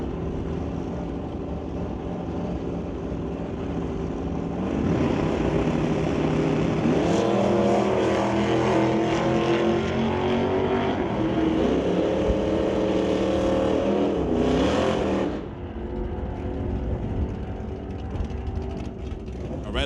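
A 2003 Chevy S10 on a drag strip run at a bracket race, engines roaring loud and steady, rising in pitch through the gears before cutting off sharply near the end, with an announcer talking over it.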